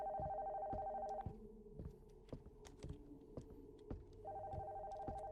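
In a horror video game, a telephone whose wire has been cut rings in steady electronic bursts, and the ring cuts out briefly in the middle. Sharp clicks and taps sound over a low hum.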